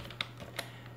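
A few isolated keystrokes on a computer keyboard, two sharp clicks about a third of a second apart, close and alone over a low steady hum.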